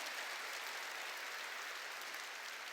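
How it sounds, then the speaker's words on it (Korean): A church congregation at a Wednesday worship service claps hard on cue, a fairly faint but even wash of many hands that holds steady throughout without any talk. "박수 세게 치라고요."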